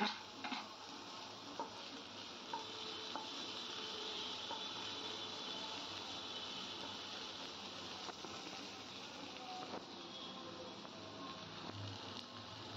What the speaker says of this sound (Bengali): ভালো করে একটু ভেজে নিচ্ছি, আঁচটা কমিয়ে দিয়েছি।